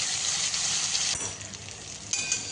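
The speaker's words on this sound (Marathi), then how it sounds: "आणि आता भरलेले दोडके टाकूयात. गॅस थोडा मोठा करून छान परतून घेऊयात." Stuffed ridge gourd sautéing in a pan with mustard seeds over a high flame, giving a loud, continuous close sizzle with a brief dip midway and a few sharper crackles near the end.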